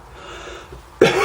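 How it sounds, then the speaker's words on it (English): A single sharp, close cough bursts out loudly after a quiet stretch of faint room noise and light breathing. "I might need to cough."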